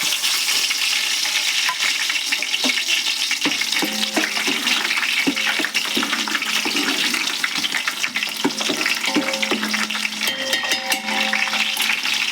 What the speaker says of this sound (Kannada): ಒಗ್ಗರಣೆಗೆ ಮತ್ತೆ ಒಂದು ಉಳ್ಳಾಗಡ್ಡಿ ಹೆಚ್ಕೊಂಡೀನಿ, ಹಾಕ್ತೇನೆ ನೋಡ್ರಿ ಅದಕ್ಕೆ